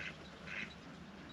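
A duck gives two short, nasal quacks, one at the start and another about half a second later, heard outdoors during a quail hunt at Hot Creek Boneyard.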